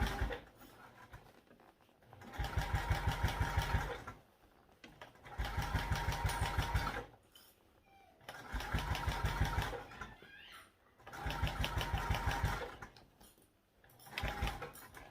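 A sewing machine stitches binding onto a backpack through several layers, running in four or five loud, even bursts of a few seconds each, separated by quiet pauses.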